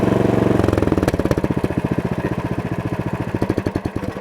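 A Cub Cadet 3X snowblower engine is throttled down to shut off, its steady running drone dropping into slow, chugging pulses that keep thumping as it winds down, loud and close.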